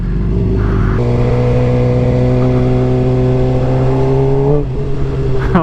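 A Suzuki GSX-R sport motorcycle engine drones loud and close while being ridden, holding a steady pitch and then dropping abruptly as if shifting, before climbing again.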